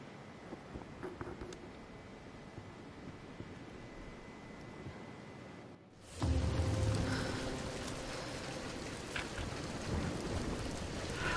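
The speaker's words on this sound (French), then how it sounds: "La tempête n'est plus très loin." A storm approaches in the Tomb Raider video game: steady rain hisses at a moderate level, then after a brief drop a heavy thunder rumble bursts in, leaving rain pouring louder and denser.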